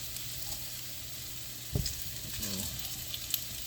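Turkey pieces fry in hot oil with a steady, soft sizzle and crackle, joined midway by a brief clunk and a few scraping, stirring sounds.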